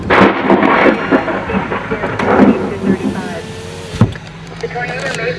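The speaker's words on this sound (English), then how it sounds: "Much too close of a lightning strike." A very close lightning strike during a tornado-warned supercell thunderstorm near Happy, Texas gives a sharp crack about four seconds in, over rumbling thunder and rain with people talking throughout.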